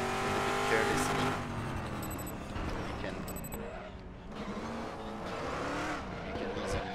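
In the RaceRoom racing game, a car driven carelessly roars loudly with a continuous engine drone and brief squealing tyres, its pitch rising and falling as it oversteers.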